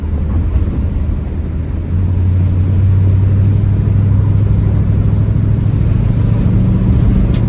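A 1971 Ford Mustang 302 V8 coupe with automatic transmission drives along, its engine giving a loud, steady rumble that swells slightly after a couple of seconds and holds on without pause or voices.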